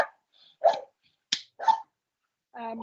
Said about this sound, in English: The dog's going off on one, sorry.